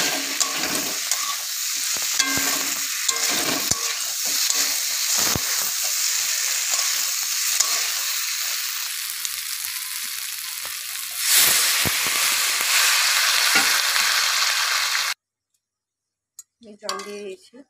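Water poured into a hot pan of rohu fish curry with potatoes sets off loud, continuous close sizzling and bubbling with a few stirring clinks, then cuts off near the end where a voice briefly speaks.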